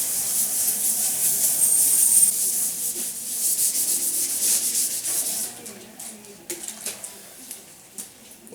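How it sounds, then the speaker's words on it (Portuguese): Hand sanding of primer on a Toyota Hilux Turbo body panel with 600-grit sandpaper: a steady, close scratchy rubbing that runs continuously, then breaks into shorter, irregular strokes near the end. "Agora eu vou lixar com a lixa 600 aqui, para poder finalizar aqui o lixamento do prime"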